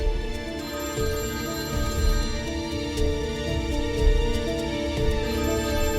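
A telephone rings with a melodic electronic ringtone that plays steadily and fairly loud throughout, with no one speaking.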